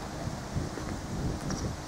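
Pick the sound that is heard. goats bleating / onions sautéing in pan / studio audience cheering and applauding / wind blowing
wind blowing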